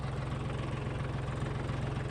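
A heavy-duty tractor engine running in a field, a steady low throbbing idle with a fast, even rhythmic pulse, close and continuous, with no talk over it.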